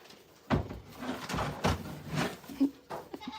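Goats bleating on a goat farm, a few short nasal calls spaced across a few seconds at moderate distance, with some faint background talk mixed in.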